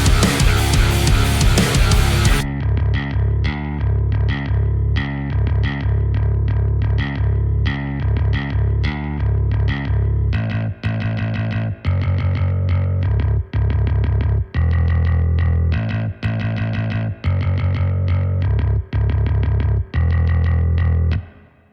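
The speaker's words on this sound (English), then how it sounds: "It's called the Memphis Soul Guitar, and without any processing, it sounds like this." Omnisphere Memphis Soul Guitar patch played as a bass line with no processing: a loud, warm, repeating low riff of distinct plucked notes with brief gaps, following a short opening burst of bright noise.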